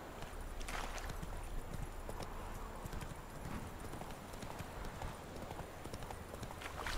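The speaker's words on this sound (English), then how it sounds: "Whoa there, Roach" Steady clip-clopping hooves of a horse in the video game The Witcher 3: Wild Hunt, a continuous rhythmic trot heard alongside game ambience throughout.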